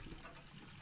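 Hot water running into a bathtub in the video game Botany Manor, a quiet, steady rushing wash with no talk over it.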